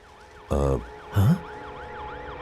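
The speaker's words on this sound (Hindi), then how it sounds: "यहाँ पर एम्बुलेंस आ गई है।" An ambulance siren arrives with a steady, repeating wail cycling up and down at moderate distance. Two loud bursts of other sound briefly cut across it.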